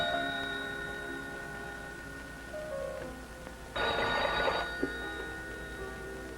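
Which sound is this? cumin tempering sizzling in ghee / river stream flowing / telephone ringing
telephone ringing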